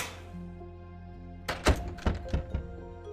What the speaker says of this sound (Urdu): عمران نے دروازے کو دھکا دیا لیکن وہ اندر سے بند تھا۔